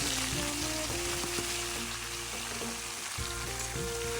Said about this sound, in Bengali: এখন আমি এই সবজিগুলো এর মধ্যে দিয়ে দিচ্ছি